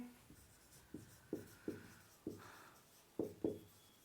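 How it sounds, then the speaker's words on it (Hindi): Chalk or marker strokes on a board during a physics lesson, a series of short tapping scrapes spaced unevenly over about four seconds, fairly close and alone. "तो हम लोग लिखेंगे"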